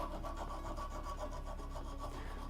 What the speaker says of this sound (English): Now I'm going to go ahead and take a file and take these sharp edges off.